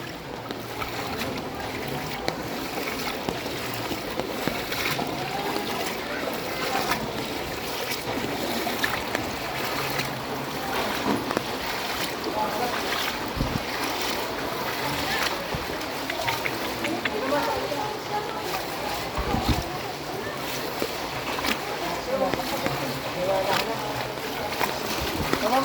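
Steady, loud rush of floodwater fills the whole stretch, a constant churning roar with occasional splashes and faint voices underneath.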